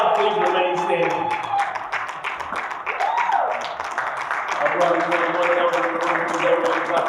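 Audience applause at an African spirituality conference, steady clapping running throughout while voices and sustained musical tones sound over it.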